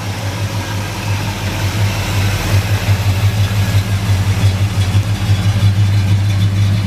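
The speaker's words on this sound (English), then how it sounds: "Nice, smooth running little 350." A 1972 Chevrolet El Camino with a 350 V8 and dual exhaust with chrome tips idles smoothly, a steady close low rumble that holds even throughout with no voices.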